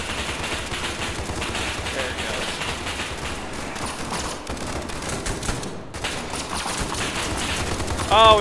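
Sustained bursts of rapid automatic gunfire in the shooter game SCP 5K, dense and continuous close fire with overlapping shots, under quiet voice chat.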